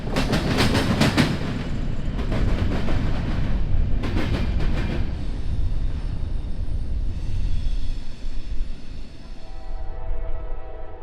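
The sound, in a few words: long intermodal freight train passing southbound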